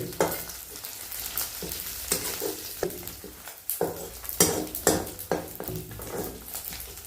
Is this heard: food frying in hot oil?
yes